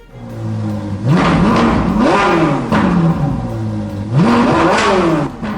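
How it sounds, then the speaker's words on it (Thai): A customized motorcycle engine revs hard in a repair garage, rising and falling in loud repeated surges, with no talking. "เสียงเครื่องยนต์มอเตอร์ไซค์แต่งพิเศษคำรามก้องในโรงซ่อม"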